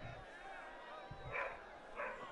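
Two muffled barks from a German shorthaired pointer sound a short distance away, spaced apart, over quiet background noise.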